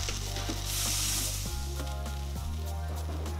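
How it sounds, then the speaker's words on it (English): Ham and potato soup is whisked in a pot over low heat. A soft, steady sizzling bubble continues throughout, with a few utensil knocks against the pot. No voices are heard. "You want to whisk this while it's on low."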